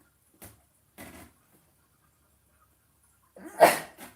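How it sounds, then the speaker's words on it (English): A single sharp sneeze up close, preceded by two short sniffs or breaths separated by silence, in a quiet indoor room. "And I'm gonna sneeze, which is confirmation."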